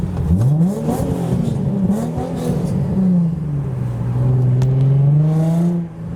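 A JDM car rolling out of a Japanese car show revs its engine in a few sweeping, rising and falling pulls, loud and close, with a steady whirring tone between blips.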